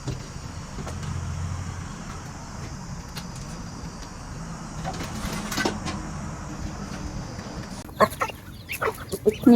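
Chickens cluck at a rural Lao home, fairly faint and scattered against outdoor ambience, with a few sharper knocks and clatters near the end.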